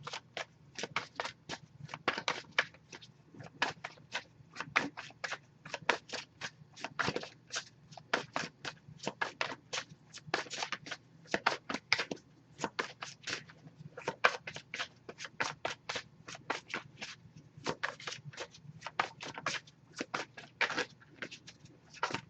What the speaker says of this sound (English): I'll give it a few more shuffles.